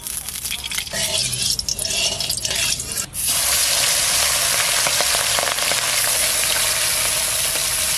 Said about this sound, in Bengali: এবার তেল দিয়ে দেবো, মাছটা আমি ভাজা করবো, সামান্য হালকা হালকা করে ভেজে নেব।